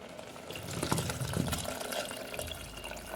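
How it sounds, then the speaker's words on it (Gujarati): A steady stream of tender coconut water pouring into a pot of rice, gurgling continuously for a few seconds at close range. "નારિયેળ પાણી છે જે તરોપાનું પાણી એ નાખી દઈશું અંદર"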